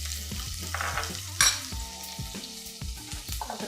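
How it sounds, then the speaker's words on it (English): Chopped shallot stir-frying in hot ghee: a steady close sizzle with repeated scraping stir strokes and clinks of a utensil against the pan, no voices. "I'm just going to stir fry them for a few seconds"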